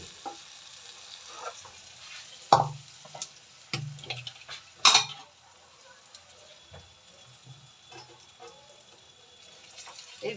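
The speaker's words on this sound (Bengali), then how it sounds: "একটু মশলাটাকে ভালো করে ভেজে, মশলা বলতে একটুখানি জিরে গুঁড়ো আর একটু আদা আর তেজপাতা কাঁচা লঙ্কা গোটা" Cumin powder, ginger, bay leaf and whole green chili fry in a pan, making a faint, quiet sizzle broken by several sharp spatula knocks and scrapes.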